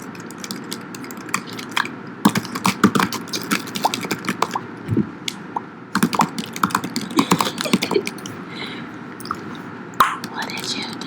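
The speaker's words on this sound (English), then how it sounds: "here are some more keyboard clicks" Bursts of quick computer keyboard clicking, close and crisp, come in uneven runs over a soft, breathy background in an ASMR-style recording, with a few louder isolated taps.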